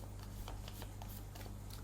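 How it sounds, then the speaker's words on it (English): A deck of tarot cards is shuffled by hand before a reading, giving faint, close riffling and soft flicks over a low background hum. "I'm going to shuffle the cards and cut the deck 3 ways"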